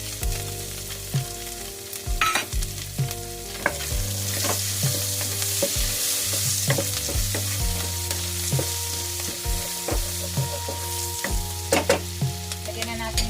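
Onion sizzles steadily in a hot pan of mixed vegetables, with a spatula repeatedly scraping and stirring through the loud, constant frying.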